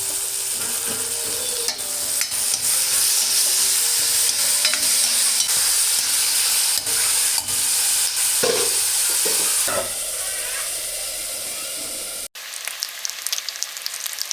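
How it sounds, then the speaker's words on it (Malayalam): Big onions fry in a pan and are stirred: a loud, continuous sizzle with scraping strokes from the stirring, then a sudden drop to a quieter crackle near the end. "എന്നിട്ട് നല്ലോണം ഇളക്കി കൊടുത്തിട്ട് കുറച്ച് നേരം ഒന്ന് മൂടി വെച്ച് വല്യുള്ളിൻ്റെ നിറമൊക്കെ ഒന്ന് കുറച്ച് മാറണ വരെ ഒന്ന് വേവിച്ചെടുക്കുക"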